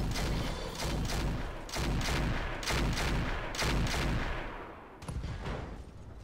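Paired rotary autocannons fire in the Roguetech BattleTech video game in loud, rapid sustained bursts. About five bursts are separated by short gaps, ending in a final sharper crack.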